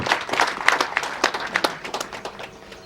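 An audience at a Hoima branch commissioning ceremony in Uganda claps for the enrollment panel, producing a dense, irregular patter of hand claps that stays fairly loud and then thins out toward the end.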